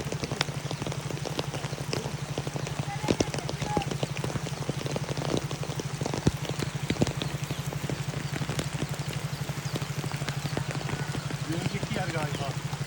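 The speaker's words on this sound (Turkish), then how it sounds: "Havada çok fena yağmurlu." Heavy rain falls steadily in Tana Toraja near Rantepao, a dense patter of drops hitting surfaces close by with a low engine-like hum underneath, while people talk over it.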